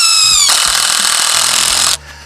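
A power drill with a screw bit driving a screw into a wooden board for a garden grow box. The motor whines loudly and steadily, then cuts off abruptly after a brief rising start, close up with no speech.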